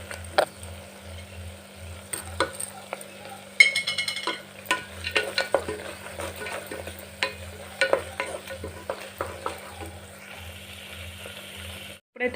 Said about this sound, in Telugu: వీటిని బ్రౌన్ కలర్ వచ్చేంత వరకు ఫ్రై చేసుకోవాలి. అలాగే జీడిపప్పు కూడా వేసుకోవాలి కొంచెం.